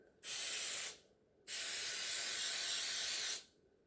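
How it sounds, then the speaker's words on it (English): Two hissing bursts of aerosol baking spray into the cups of a donut pan, a short one followed by a longer one, close by with silence between. "use our baking spray and spray your donut cups"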